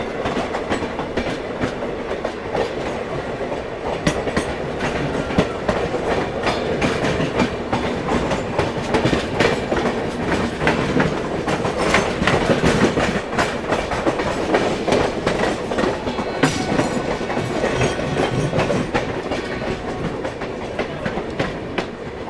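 The Lucknow Raipur Garib Rath Express runs along the track, a loud continuous rumble with rhythmic clickety-clack of wheels over rail joints, heard from inside the moving train.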